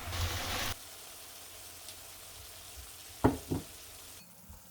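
Rice paper dish ingredients with oyster sauce, soy sauce or doenjang sizzle steadily in a hot pan with a few clinks and scrapes of stirring, fairly quiet and continuous, with no one talking.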